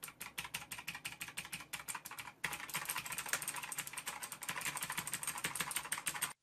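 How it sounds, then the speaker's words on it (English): A budget gaming keyboard with clicky blue switches is typed on rapidly and close up, a dense run of sharp clacks that pauses briefly and then continues even faster until it stops abruptly. "The blue keys do have a more clicky sound to them."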